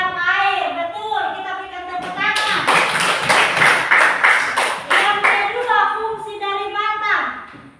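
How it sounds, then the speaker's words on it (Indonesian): A classroom of children bursts into brisk, crowded applause for a few seconds, with the clapping framed by a teacher's and children's voices before and after. "Kita berikan tepuk tangan."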